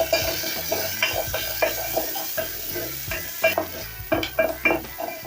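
Ginger and onions fry in oil in a pot for one-pot vegetable rice, with a soft sizzle under frequent close spoon scrapes and knocks against the pot and no talking.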